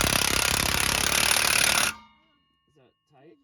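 Loud continuous rattling hammer of an impact wrench drives a pinion flange onto a 2003 Mach 1's 8.8 axle using the old nut, running steadily then cutting off abruptly, followed by brief faint talk.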